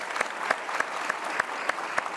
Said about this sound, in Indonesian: Kita kasih tepuk tangan dong untuk Fajar.